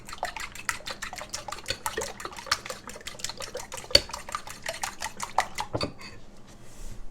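A utensil clinks and scrapes rapidly against a bowl while keto ingredients are mixed for Appalachian hamburger gravy and biscuits, making a busy rhythmic clatter that slows and stops near the end, close and alone.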